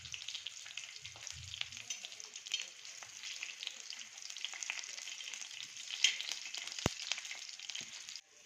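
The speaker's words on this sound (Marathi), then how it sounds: "टोमॅटो पण तळून घेणार आहे खोबरं मी भाजून घेतलेले हे पण मी तळून घेणार आहे" Tomato, roasted coconut and ginger fry in oil for a bitter gourd dish, giving a soft, steady sizzle with faint crackles and occasional stirring scrapes.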